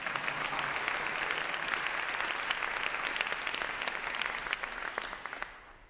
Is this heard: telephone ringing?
no